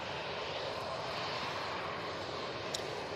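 Pilatus PC-24 business jet rolling for takeoff at Manchester Airport, a steady, moderately distant engine roar that stays even and unbroken with no voices.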